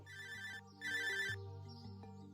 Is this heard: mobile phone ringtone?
yes